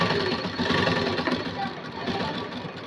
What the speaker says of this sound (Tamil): இந்த கிளாத்தை 2ஐயும் ஒன்றா வச்சு தையல் போடுறேன்